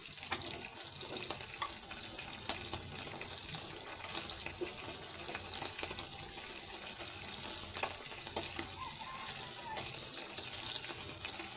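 Fish frying in a pan gives off a steady, close sizzling hiss with small crackles and pops, continuous from start to finish with no voices.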